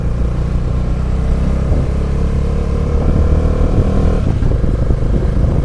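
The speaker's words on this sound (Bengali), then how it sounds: "বাট স্টিল ইঞ্জিনে একটু প্রেশার পড়ে let's go in first gear" A car engine labors loudly and steadily in first gear, a constant rumbling drone with slight rises as it pulls uphill on a mountain road near Gangtok, Sikkim.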